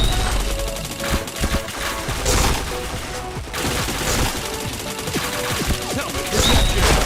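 Video-game firefight with headshots: sustained bursts of automatic gunfire and heavy impacts, loud and nearly continuous with brief lulls.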